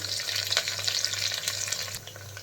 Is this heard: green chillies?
yes